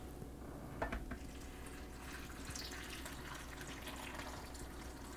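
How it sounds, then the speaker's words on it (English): Water pours into a blender for a green smoothie, a soft steady trickling stream that is faint and continuous, with a small bump near the start. "And last but not least, we got water."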